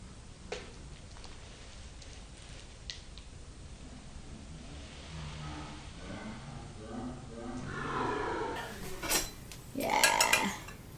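Bowls of homemade DIY slime being swapped: after a stretch of quiet rustling, the clinks and scrapes of bowls grow louder toward the end, with people talking throughout.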